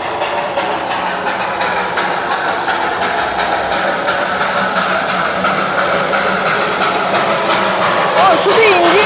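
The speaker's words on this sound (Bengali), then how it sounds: "ও, শুধু ইঞ্জিনটা আসছে," A lone train locomotive approaches along the line in hilly Kurseong, making a loud, steady mechanical rumble and hiss that holds throughout, with a brief voice near the end.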